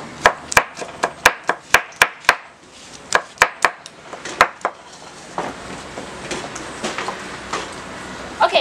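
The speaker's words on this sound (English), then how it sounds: "Chop this really, really, really fast." Tomatoes chopped very fast in a manual chopping pot, a quick run of sharp, evenly spaced clacks that pauses briefly, resumes, then gives way to a busier, rougher rattle of blades near the end.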